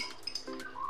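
Metal utensils clink against pots and dishes as yogurt goes into a pan while cooking doi potol, a few bright separate clinks and scrapes, close and clear, with no talk.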